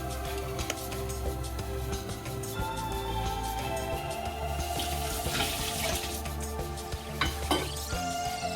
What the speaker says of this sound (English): Then fry the dried shrimp without oil to get rid of a smell. Give it a stir for 1 or 2 minutes.